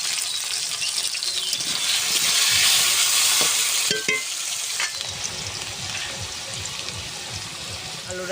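Bottle gourd and potato crackle and hiss in hot mustard oil, a loud steady sizzle with stirring scrapes and a few sharp clacks around the middle.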